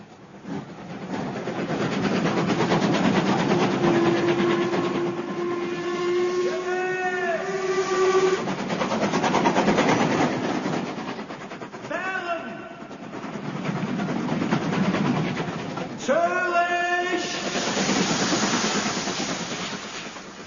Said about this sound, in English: And so we took the train to Dover and thence crossed to the continent.